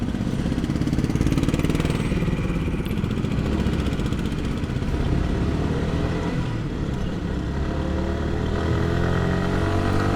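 Motorcycle riding through city traffic in Chittagong, a loud continuous engine drone with wind buffeting, close and steady, with no talk.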